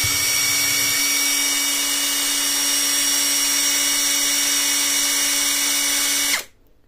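An MLHY 20V cordless drill runs at its first speed with a steady, loud motor whine and high buzzing for about six seconds, then stops abruptly and winds down to quiet.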